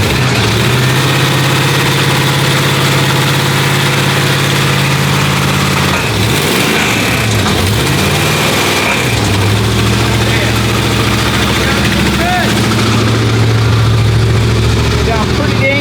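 A 1968 Dodge Charger engine idles steadily just after starting, a loud, continuous low rumble that dips briefly midway, with people talking nearby.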